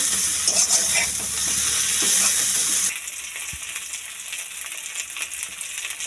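Ginger, garlic and chilli sauté together in a hot pan for a homestyle prawn and banana-flower ghonto, with a loud steady sizzle and stirring for about three seconds before it settles to a quieter fry.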